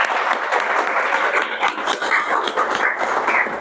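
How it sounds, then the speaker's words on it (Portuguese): An audience at a motivational talk applauds, a dense, steady clapping that stays loud and even throughout, with no voices over it. "então uma salva de palmas para vocês"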